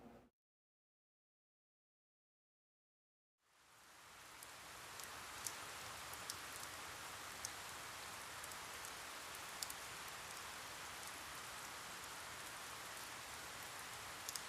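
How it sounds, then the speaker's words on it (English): Steady rain in the video game Tama, starting after a brief silence and building into a constant hiss of falling drops with occasional sharper raindrop ticks, alone without talk. "Ever since that day, the sound of raindrops has been burned into my mind."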